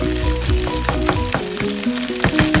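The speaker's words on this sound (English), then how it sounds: "You have to cook 2 eggs. Make sure they're scrambled." Eggs frying and being scrambled in a pan, a steady loud sizzle broken by repeated scraping and stirring clicks of a utensil, with no voices.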